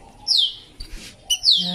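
A young pet bird, freshly out and handled for the first time, gives high, sweeping chirps in two clear bursts separated by a brief rustle, close and fairly loud with no talking.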